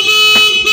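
A motorcycle horn wired without a relay gives two short, steady, loud electric honks close by, back to back within under a second.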